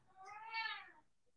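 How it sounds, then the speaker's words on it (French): A single drawn-out cat meow, close and fairly clear, rising then fading over about a second with no talk over it. "Mon chat est d'accord, tu l'as entendu?"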